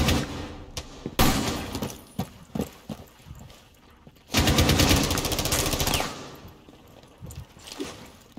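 Rainbow Six gunfire sounds as scattered sharp shots and clatter at moderate volume, then a dense burst of rapid fire in the middle, followed by a few more isolated cracks.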